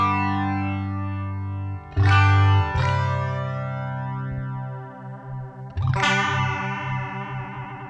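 An electric guitar runs through a PastFx Deluxe Elastic Mattress modulation pedal. Sustained strummed chords ring out with a swirling, warbling sweep, restruck a few times and left to decay, loud and alone with no speech.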